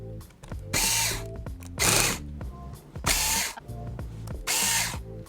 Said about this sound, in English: You can take out the screws holding in the USB board.